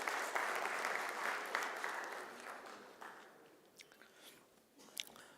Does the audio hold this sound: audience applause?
yes